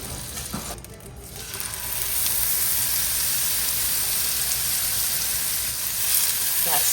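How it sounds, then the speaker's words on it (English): Steady, loud sizzling of fish frying in butter in a hot pan, a continuous crackling hiss throughout. "That sizzle is just so satisfying."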